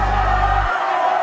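A big football stadium crowd roars in a dense, loud, continuous wash of cheering, with a low rumble dropping out partway through.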